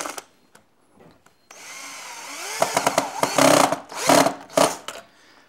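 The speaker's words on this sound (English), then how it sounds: "Run a screw in." Power drill driving a screw to fix a small rock or limb piece into a Mckenzie Wall Habitat panel, with a few short whirring bursts, stop-start and close, alone without talk.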